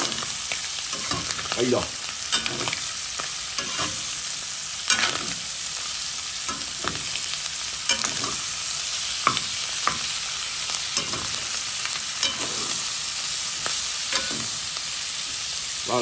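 Onions browning with ham in a pot for rougail, a dense continuous sizzle with occasional stirring scrapes, close and steady, and a brief spoken exclamation.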